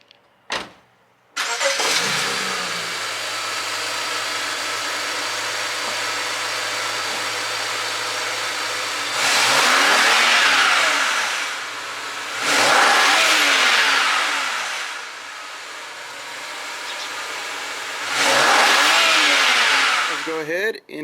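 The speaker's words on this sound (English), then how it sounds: "I want to go ahead and rev up the car and see how it sounds with the stock compared to" A 2007–2013 BMW 335i fitted with an aftermarket chargepipe and blow-off valve starts up, idles steadily, then revs loudly three times in separated bursts that rise and fall, heard up close.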